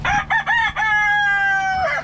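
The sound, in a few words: chickens clucking and rooster crowing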